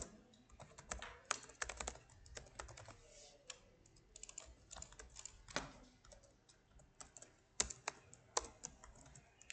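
Close, fairly quiet typing on a computer keyboard while code is entered, quick irregular key clicks in uneven bursts with brief gaps, no voices.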